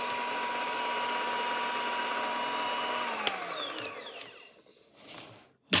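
A Tefal HT650E Power Mix Silence hand mixer runs at top speed with a steady high whine, then spins down and fades out, ending in a brief clatter.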